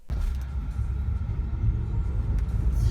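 2019 Tesla Model 3 accelerating hard from 0 to 60, a steady low rumble of road and motor noise that starts abruptly and holds at an even, moderate level for a few seconds, with no voices.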